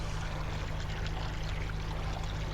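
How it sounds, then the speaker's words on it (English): Makeup water pours steadily into an adiabatic cooling system's recirculation tank through open solenoid valves, a continuous, even rush of flowing water with a low mechanical hum beneath it and no voices. "Solenoid valves open, allowing makeup water to enter the pumpless recirculation system."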